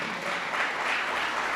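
A church congregation applauding, a steady wash of many hands clapping at a moderate distance, fairly faint and even throughout.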